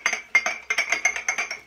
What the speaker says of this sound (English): That way so the brush ain't clinking on the inside of the mug.